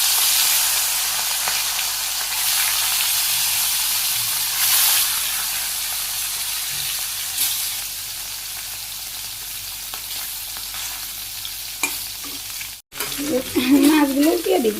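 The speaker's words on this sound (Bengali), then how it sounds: "তেল গরম হয়ে গেছে, মাছ দিয়ে দিই।" Fish frying in hot oil makes a loud, steady, close sizzle and hiss that runs throughout, with a brief dropout and some clattering near the end.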